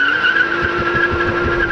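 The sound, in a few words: 2016 BMW M2 driven on track at Laguna Seca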